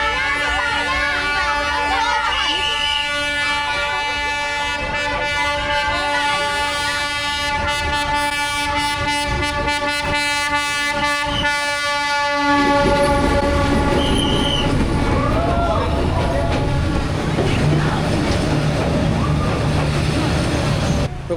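A train horn sounds in long sustained blasts as the train approaches along Hanoi Train Street, then gives way to the loud rumble and clatter of cars rolling past close by, with crowd voices mixed in.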